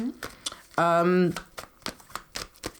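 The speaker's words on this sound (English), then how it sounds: "Okay, I'm just shuffling these cards." A deck of playing cards being shuffled nearby, with soft repeated riffling and flicking clicks spread through the clip around a short burst of voice.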